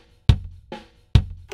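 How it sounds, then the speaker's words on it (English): Recorded kick drum struck in a slow, even pattern, each thump followed by fainter hi-hat and snare drum bleed from nearby mics, close and dry with no talk. "we're hearing a little bit of the hi-hat and we're hearing the snare drum."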